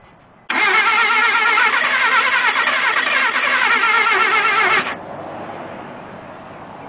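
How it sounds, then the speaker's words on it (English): A Mitsubishi Mirage that has sat unused, with earlier no-spark and no-fuel-pressure faults, cranks loudly on the key in a steady whirring rhythm for about four seconds, then drops to a quieter idle-level hum. "Now I'm going to go try to start this car with the key,"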